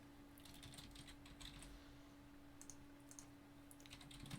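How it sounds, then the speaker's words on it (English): A computer keyboard is typed on in quick, light bursts of clicks, faint and close, over a steady low hum with no talking. "That's what I'm typing in the old Discord chat."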